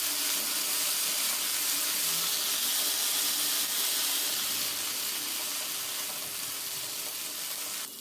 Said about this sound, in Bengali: বরবটি থেকে যে পানিটা ছেড়ে দিবে সেই পানিটা শুকিয়ে নেওয়া পর্যন্ত বরবটিটাকে ভেজে নিতে